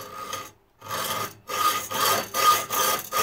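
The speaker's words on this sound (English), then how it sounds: "So I'm going to just go ahead and start sawing on this." Rough rasping strokes of a hand saw cutting through wood for a small robot chassis, short back-and-forth bursts with brief pauses between them, close up and fairly loud.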